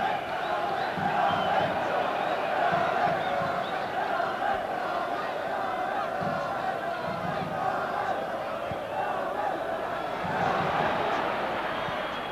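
Large football crowd at a Manchester United versus Galatasaray UEFA Champions League match, a loud continuous roar and chanting that fills the stadium throughout, with swells of cheering rising and falling.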